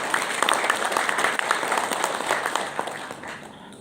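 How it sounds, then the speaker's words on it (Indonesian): A political rally crowd in Semarang breaks into applause, a dense burst of many hands clapping that holds strong and then tapers off toward the end. "Tepuk tangan untuk Kota Semarang."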